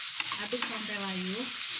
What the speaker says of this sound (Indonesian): Aduk sampai layu.